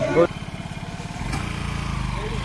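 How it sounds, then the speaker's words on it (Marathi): A motorcycle rides up through a temple parking lot at Bhimashankar, its low engine putting out a steady, close, chugging pulse that grows slightly louder midway and runs continuously after a brief voice at the start. "अभी हमारी बाइक भाई लेके आगे आ रहा है"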